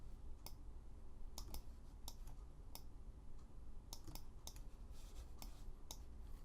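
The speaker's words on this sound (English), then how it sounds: "I'll hit 3 on the keyboard to see what I've got" Computer keyboard keys pressed in scattered, irregular clicks, faint and close, with no talking.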